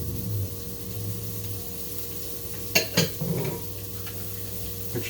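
Shredded carrots sizzle in a hot pan with a little oil, a steady low fry broken by a few brief clatters of stirring near the middle.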